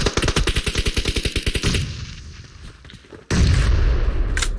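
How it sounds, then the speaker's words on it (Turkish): Rapid AK rifle gunfire in an online shooter video game, a loud close burst of evenly spaced shots, followed by a quieter stretch and then a sudden loud blast of noise. "Oraya AK ile vurdu."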